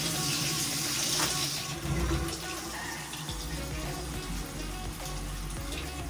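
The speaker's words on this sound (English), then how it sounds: "get some warm water in the sink." Warm water runs steadily from a tap into a sink, a continuous close hiss and splash that lasts throughout at an even level.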